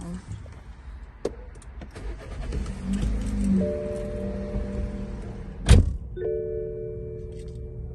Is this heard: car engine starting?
yes